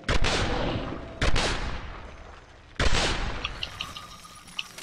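Gunfire in the video game Singularity: three sharp, loud bursts of shots that ring out and decay, followed by scattered smaller impacts and clinks, with no talking.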